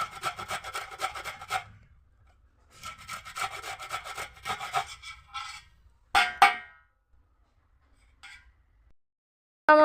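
Hog plums (amra) being rubbed against a grater for chutney, close raspy scraping in several bursts with pauses between, a few sharp clacks, and a brief loud knock at the end.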